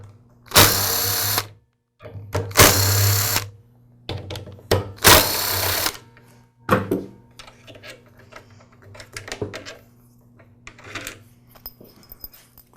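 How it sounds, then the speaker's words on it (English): Power screwdriver backing out the four screws of the motor cover on a DeWALT DW718 miter saw: three loud, close whirring bursts of about a second each, followed by small clicks, rattles and handling of parts, no speech. "Now remove the 4 screws that secure the motor cover to the rest of the saw."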